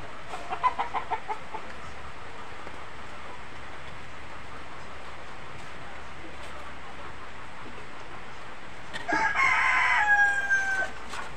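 Quiet outdoor ambience, with a rooster crowing once, fairly close, near the end and a few faint clucks early on.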